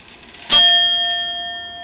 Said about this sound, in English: let's see what happens when I pull on the strike chain